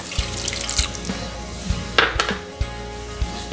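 Water pours into a pot of masala for egg gravy with a soft splashing stream, punctuated by a few light clinks of a utensil against the pan.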